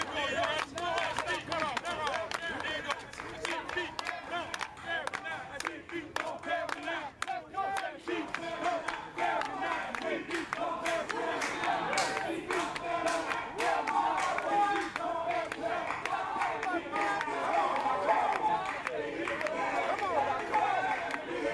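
A New Orleans second line crowd forms a ring around dancers, clapping and shouting in a dense, continuous roar of voices with sharp hand claps and cheers throughout, close and lively.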